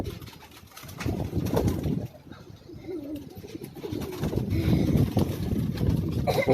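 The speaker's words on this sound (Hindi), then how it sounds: "ये हीरा लाल कबूतर है ये।" Pigeons cooing on a Karachi rooftop loft, a soft low repeated coo blending with other birds and background rustle, fairly close and steady throughout.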